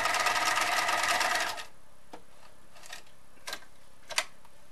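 A sewing machine stitches a men's shirt collar in a steady, rapid run of about a second and a half, then stops, leaving a few faint ticks and clicks as the stitch length is adjusted and the fabric pivots.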